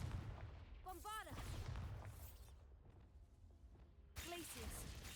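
Confringo and Bombarda explosion spells in a Harry Potter video game: whooshing casts and muffled blasts under game music, with a voice talking over them.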